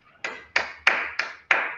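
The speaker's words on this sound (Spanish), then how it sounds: "démosle un fuerte aplauso a Francisco por esta excelente charla" Online meeting participants applaud after a talk, giving about six sharp, separate claps in a fairly even rhythm. Each clap is close and distinct against near silence.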